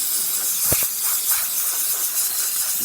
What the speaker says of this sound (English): Now let's test the steamer. Really great pressure on the steamer.